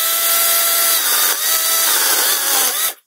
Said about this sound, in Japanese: もっと元の方から当ててあげると、もっとチェーンソーが安定して切れるんで